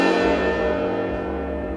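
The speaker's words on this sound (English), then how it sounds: "I have a bowed cymbal." Bowed cymbal ringing on as a sustained, shimmering metallic drone, dense with overlapping tones, heard close and alone with no talking.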